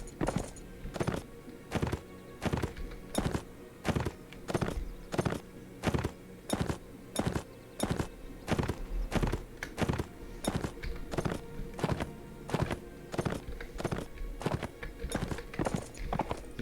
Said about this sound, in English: So the Rangers do have a couple of horses.